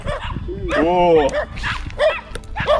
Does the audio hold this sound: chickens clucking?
no